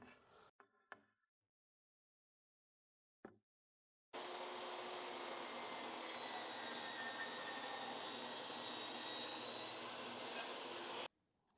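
Power saw slicing through a wooden fence picket, a loud, sustained whining roar lasting about seven seconds, preceded by a few faint handling knocks and silence.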